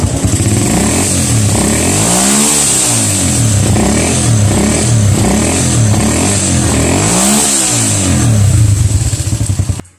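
A motorcycle with a battery that is not recharging idles and is revved repeatedly, the engine rising and falling in loud, close waves of acceleration for the whole stretch before cutting off at the end.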